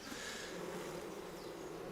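Honey bees swarm and buzz around an opened frame hive in a garden apiary once the roof comes off, a dense, steady, close drone that holds evenly throughout with no voices.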